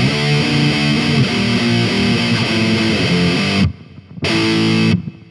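A heavily distorted electric guitar plays a fast tremolo-picked black metal riff in A Phrygian, loud and dense, stopping abruptly twice near the end before resuming.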